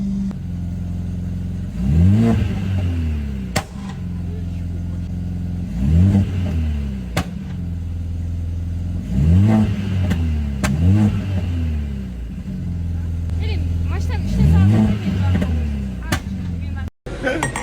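Mercedes car engine revved repeatedly, four or five loud rising roars that fall back to idle at regular intervals, close by, with people talking over it.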